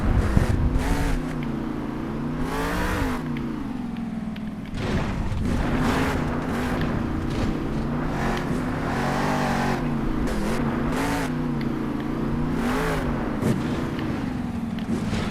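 Monster truck engine in the video game Monster Jam Steel Titans 2 at a Salt Lake City event, a loud steady roar with repeated revving surges and pitch swells, running continuously without talk.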